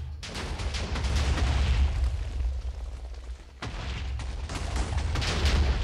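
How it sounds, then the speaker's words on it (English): A large ship blown up in Minecraft, a long rolling barrage of overlapping booms and crackling blasts that continues for several seconds, breaks off briefly and then starts again, loud and close, with no talk. "I'm ready to see the grand explosion of the grand ship."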